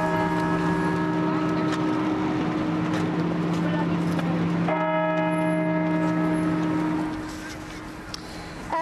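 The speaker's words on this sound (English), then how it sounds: "bells across Toronto rang 100 times" Church bells across Toronto ring for Remembrance Day on the armistice centenary, tolling 100 times. Loud, sustained, overlapping peals ring out steadily, then fade toward the end.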